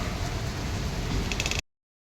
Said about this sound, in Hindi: बारिश होने लगी तो सोचा लाओ आप लोगों को बारिश दिखा दूँ।